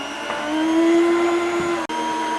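An electric meat slicer whirs steadily while cutting bacon, a continuous motor hum with a strong tonal whine, loud and close, broken by a brief dropout near the end and no talk.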